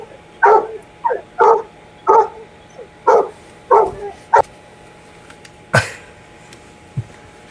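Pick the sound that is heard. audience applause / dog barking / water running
dog barking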